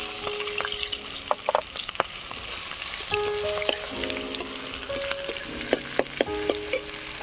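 Chopped onion fries in mustard oil in a wok, with a loud, constant sizzle broken by the clink and scrape of stirring.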